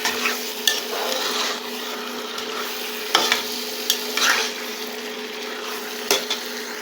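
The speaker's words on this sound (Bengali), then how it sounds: "মুরগির মাংস রান্না করতেছি আজকে" Chicken curry frying and being stirred in a pot, a steady sizzle with a low hum underneath, broken by several sharp scrapes and clanks of the spoon against the metal at irregular intervals.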